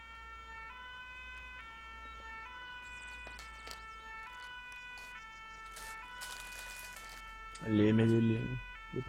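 Fire engine siren in a gendarmerie roleplay game set on Altis, holding steady layered tones under a low background hum, with a sudden loud burst near the end.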